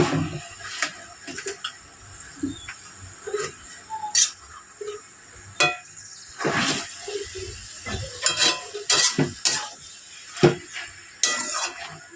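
A rohu fish head and cabbage curry is stirred in a pan over a gas flame, giving irregular scrapes and clinks of a utensil against the pan with a soft sizzle between strokes.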